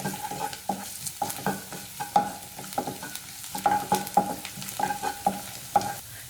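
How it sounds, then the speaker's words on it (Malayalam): Ginger and garlic sautéing in a pan for a Kerala-style egg thoran, with close, rhythmic scraping strokes of a stirring spoon over a soft, steady sizzle. "ഇഞ്ചി വെളുത്തുള്ളി ഒന്ന് വഴറ്റിയെടുക്കാം"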